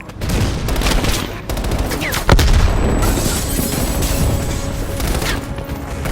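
Battle in Call of Duty: Black Ops Cold War during a bombing run, loud rolling gunfire and booming blasts with a sharp heavy impact partway through, dense and continuous.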